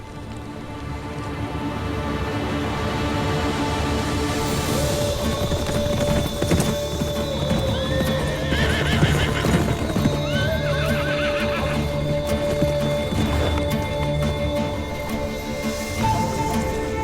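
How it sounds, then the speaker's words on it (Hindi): Several horses whinny and neigh over a steady clatter of hooves on ground, with a dense, continuous background wash that sounds like rain, in a dramatized historical Ottoman-era setting. "घोड़े निकालो।"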